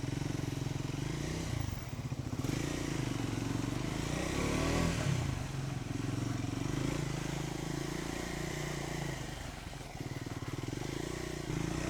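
Off-road motorcycles ride along a small hill trail in Kalasa, their engines droning continuously and fairly close, with occasional clatter from the rough ground.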